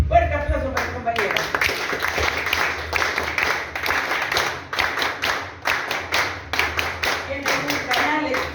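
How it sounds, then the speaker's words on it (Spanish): Audience applause for a party comrade during a speech at a Day of Fraternity event in San Martín de Porres: loud, close clapping that swells into bursts and keeps going for several seconds. "Fuerte aplauso para el compañero."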